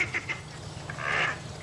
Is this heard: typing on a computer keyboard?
no